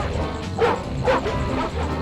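A robot dog enemy barks in the Ratchet & Clank video game, giving two sharp, yappy barks about half a second apart over a low, steady game background.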